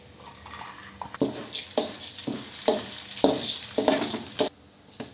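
Chana dal and tamarind dry-roast in a pan for pirandai chutney, with a spatula scraping and stirring in about ten rhythmic strokes over a light crackle, close and moderately loud, then stopping abruptly.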